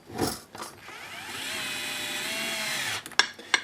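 A small power driver tightens a terminal on a lithium-ion battery pack, whirring steadily for a couple of seconds at close range, framed by brief handling knocks and clicks.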